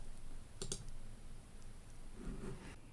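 Computer mouse clicks come close and sharp: a quick pair of crisp clicks early on, then a faint single click and a softer cluster of clicks near the end over a low steady room hum.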